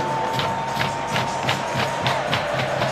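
Stadium crowd cheering at a Saturday night college football game in Blacksburg, Notre Dame versus Virginia Tech, with a dense, steady roar and rhythmic pulses of chanting or clapping throughout.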